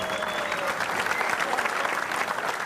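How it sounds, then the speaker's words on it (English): Mediators and dignitaries at a Darfur peace signing applaud in a continuous, dense wash of clapping that holds steady for the whole stretch. "There were applause and cheers from the mediators and the dignitaries"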